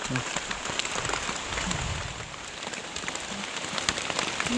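Rain patters on surfaces in a highland forest in Thailand during mushroom foraging, a continuous close hiss of drops with scattered louder splats, while voices murmur faintly in the background.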